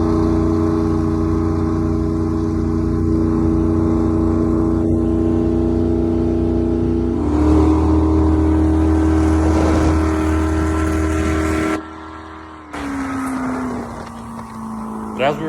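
A custom jet boat powered by a 5.3 LS V8 with headers runs on a lake, its engine droning loudly and steadily, then the pitch rises and falls as it revs, with a brief cut near the end; talk is faintly mixed in.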